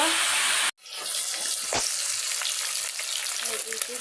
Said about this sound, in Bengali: ভাজা ওই পিঠ হয়ে গেলে এই পিঠে উল্টাই দেব